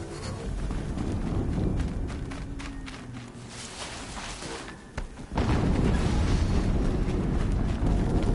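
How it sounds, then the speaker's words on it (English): Explosions in the video game Horizon Zero Dawn, a dense rumbling roar that fades, then a sudden second loud blast with sustained crackling rumble near the end. "Another explosion."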